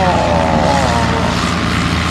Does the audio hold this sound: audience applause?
no